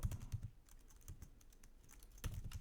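Quiet bursts of keystrokes on a computer keyboard as JavaScript loop code is typed, uneven clusters of close clicks with short pauses between and no voices.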